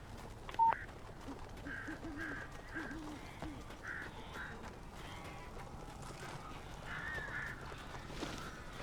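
Crows cawing in the horror video game Alan Wake, several harsh caws repeating at a moderate distance over a steady low ambient rumble, with a brief beep near the start.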